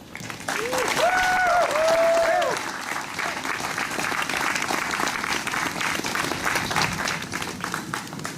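Sustained applause from an audience at a town celebration in Dexter welcoming guest speaker Cassie Michael, dense and steady clapping that fills the whole stretch, with a brief tonal whistle-like sound early on.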